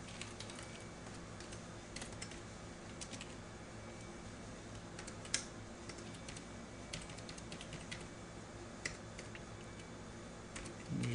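Keys typed on a computer keyboard while entering data into a Delphi 7 form: faint, irregular clicks and short bursts of tapping, well in the background against steady room hiss, with one slightly louder keystroke midway.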